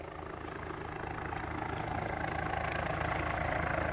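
A helicopter's steady rotor and engine drone builds slightly in loudness, a dense, continuous roar with a low rhythmic throb, close and heavy throughout.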